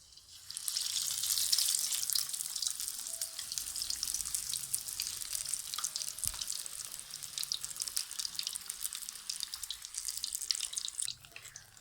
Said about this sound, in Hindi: बेसन वाली फ़िश बेसन के मसाले के साथ बहुत ही ज़बरदस्त और बहुत ही बेहतरीन फ्राई हो रही है।